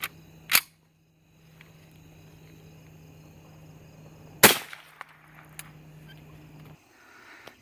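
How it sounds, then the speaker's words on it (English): Two sharp, loud .22 rifle reports from Velocitor 40 grain hollow point rounds, spaced several seconds apart, each a single crisp crack with a short tail, over a steady low background hum. "this is the Velociter hollow point, 1400 some feet a second out of a rifle, 40 grain hollow point"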